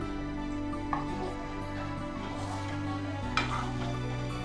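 Assam sticky rice sweet pulao with cashews and raisins is stirred in a pan over a faint sizzle, with soft scraping and two brief utensil clinks up close.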